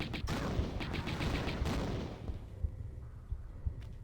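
Explosion in the 1996 Tomb Raider video game, Atlantis level: a loud rumbling blast with crackling debris that fades out, followed by a few soft thuds.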